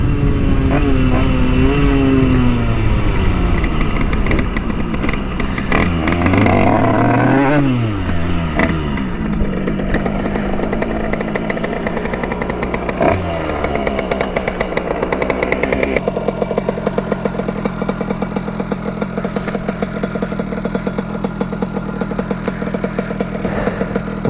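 A Derbi 80cc motorcycle engine with an AC Développement exhaust revs repeatedly, pitch climbing and dropping with each throttle blip, then settles into a steady buzzing idle, loud and close.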